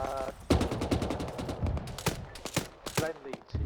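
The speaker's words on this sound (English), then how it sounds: "That's hostile fire." Hostile gunfire in the video game Task Force Athena: rapid bursts of shots cracking at irregular intervals, some in quick clusters, moderately loud and mixed under voices talking over radio.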